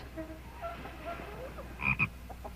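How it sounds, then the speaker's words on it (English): Frog croaking in a 1954 Lassie adventure drama: faint, sparse croaks over a steady background hum, with a slightly louder double croak near the end. "I heard her croak"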